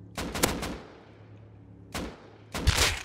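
Gunfire in the video game Rust cracks out in two separate bursts of rapid shots, the first with several quick reports and the second sharper and louder, with quiet gaps between them.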